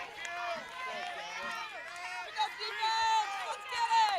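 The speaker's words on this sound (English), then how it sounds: "Just hear that crowd." Crowd noise at a college softball game rises and falls throughout, a steady roar of voices with bursts of shouting, close and loud with no one speaking over it.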